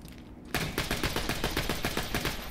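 Rapid gunfire from the infinite gun in Borderlands 2, a fast steady stream of loud shots at about six per second after a brief quiet start, with no talk over it.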